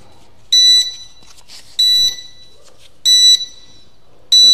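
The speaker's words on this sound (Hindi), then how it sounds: "बीप साउंड भी इसमें आ गया" A Glen kitchen chimney control circuit board beeps as power is switched on: four identical loud, pure electronic beeps, evenly spaced about a second apart, with faint background sounds and no speech.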